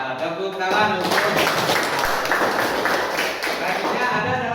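A class of eighth-grade pupils at a junior high school claps together in their classroom, a burst of many hands that starts after a brief pause and carries on steadily and fairly loud to the end.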